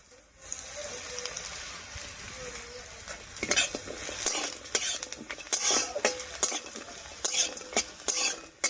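Lentil dumplings (bori) and grated coconut fry in a spiced tempering, a steady close sizzle with repeated scrapes and clinks of a spoon stirring in the pan, growing busier halfway through.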